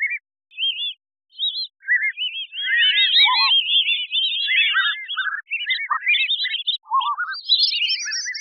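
Synthesized bird chirps are layered into a crowd scene built from a single chirp event, with many short high tweets that start sparse, then overlap densely and scatter across eight seconds against total silence.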